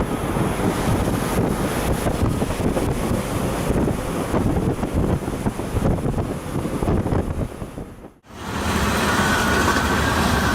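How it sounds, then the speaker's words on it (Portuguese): A medium-strength storm at sea in the harsh northern waters, with nearly three-metre waves, gives a loud, continuous roar of wind and churning surf that cuts out briefly before returning. "Assim são as tempestades de força média nos severos mares do norte."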